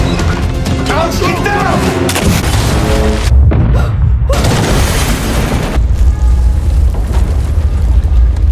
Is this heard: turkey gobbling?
no